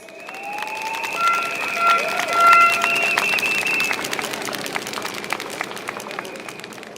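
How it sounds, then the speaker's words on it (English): Crowd applause and cheering at a PAP election rally for Pasir Ris–Changi GRC, a sustained wash of clapping with whistles and shouts rising to a peak mid-way, then continuing more steadily beneath a voice on the sound system. "please give a round of applause to Jacqueline Fernandez"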